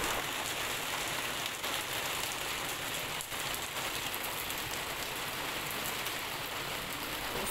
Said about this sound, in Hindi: इसके साथ ही बाहर बड़ी ज़बरदस्त बारिश शुरू हो गई थी